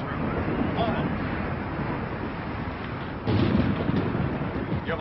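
Deep rumbling thunder from a storm approaching at sea rolls continuously and fairly loud, swelling in a heavier surge partway through, with rain and wind noise blended in.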